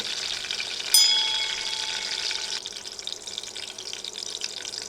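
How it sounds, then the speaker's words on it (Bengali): Whole spices for a broiler chicken curry frying in hot oil, a steady close sizzle with a sharp metallic ring as the pan is struck, then the hiss settles softer. "এবার নেড়ে বিশ তিরিশ সেকেন্ড এগুলো ভেজে নেব"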